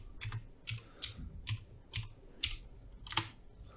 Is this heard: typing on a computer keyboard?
yes